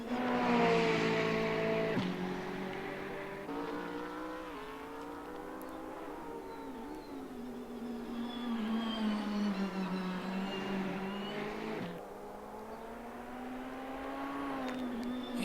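Ferrari GT3 race car engine in a racing game at Spa, heading into the chicane: a whining, revving engine note that rises and drops with gear shifts, continuous and fairly close.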